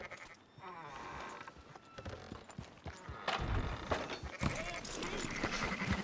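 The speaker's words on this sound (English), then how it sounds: "Fine sheep." Sheep on a farm in the video game Red Dead Redemption 2 bleat several times at close range, mixed with livestock shuffling and the clip-clop of hooves, with some talk in the background.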